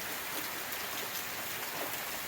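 Steady rain pours down during a continuous afternoon downpour, water running through a village market street, a dense even hiss that stays constant and fairly quiet throughout with no voices.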